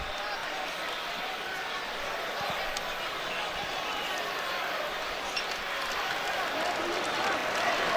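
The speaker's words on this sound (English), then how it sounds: "He's back up and gets a nice ovation from the crowd here." Crowd in a college basketball gym applauding and cheering as an injured player gets back up during an Auburn vs Saint Louis game, a steady roar of applause and voices filling the arena with no break.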